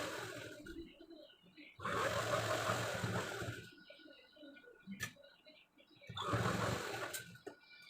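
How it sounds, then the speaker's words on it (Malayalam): A sewing machine stitches elastic onto a pair of uniform shorts, running in two loud bursts with quieter pauses and handling noise between them, while a person speaks. "കറക്റ്റായിട്ട് നമ്മൾ സ്റ്റിച്ച് ചെയ്തെടുത്തിട്ടുണ്ട്"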